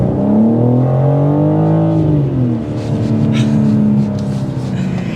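A 503-horsepower 2024 BMW M4 Competition coupe accelerates hard on a test drive, its engine note climbing steadily then dropping and rising again, loud and continuous from start to finish.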